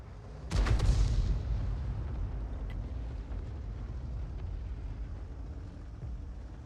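An artillery gun in World of Tanks fires a single heavy round: one sharp, loud boom near the start that rolls off into a long low rumble over steady engine drone.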